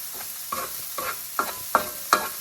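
Egg being stir-fried in a pan for fried rice, with five evenly spaced scraping strokes of a spatula over a steady, close background sizzle.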